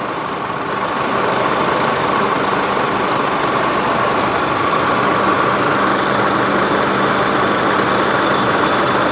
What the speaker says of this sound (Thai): เสียงเครื่องนิ่มๆนะครับผม เสียงเครื่องนิ่มๆเพาะๆนะครับ